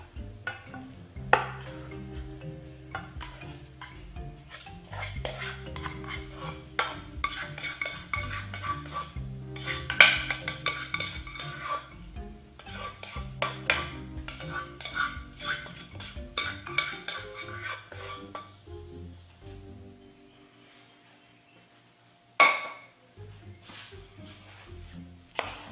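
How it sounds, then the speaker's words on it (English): Rice is mixed into cooked taco meat in a pan for a dehydrated backpacking meal, a long run of scraping and clinking of a utensil against the pan that fades near the end before a final sharp knock. "Now we'll take and mix this rice in with it."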